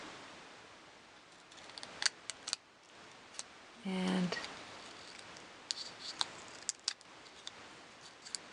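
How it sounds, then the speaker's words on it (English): Scissors snipping through stained-glass-style eggshell pieces, giving a few faint, sharp clicks and one brief crunchy cut in a quiet room, with soft speech now and then. "And cut around. You can cut right through the eggs."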